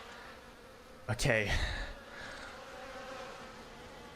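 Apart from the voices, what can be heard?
bees buzzing in the video game Final Fantasy XIV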